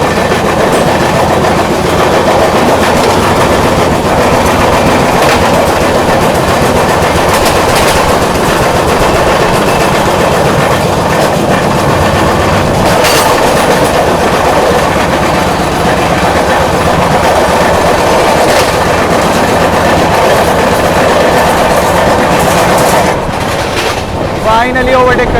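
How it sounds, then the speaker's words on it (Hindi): The 20806 Andhra Pradesh SF Express overtakes the Danapur Secunderabad Express, with a loud, continuous rumble and rapid clickety-clack of wheels on rails throughout, heard from close on board. "चलिए दोस्तों अपनी Andhra Pradesh express finally overtake करने जा रही है दानापुर सिकंदराबाद एक्सप्रेस।"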